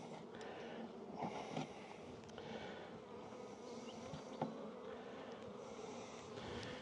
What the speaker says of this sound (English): There's an awful lot of bees in here.